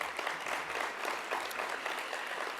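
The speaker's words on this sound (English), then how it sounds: "So another round of applause for Elaine." Audience applause at a workplace innovation-week pitch event, a dense, steady patter of many hands clapping at moderate volume throughout the short stretch.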